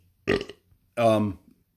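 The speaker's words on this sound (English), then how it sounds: "Excuse me, I have to burp." A person burps twice in quick succession, a short croaky belch followed by a longer, louder, voiced one, close to the microphone in a quiet room during a casual home cooking chat.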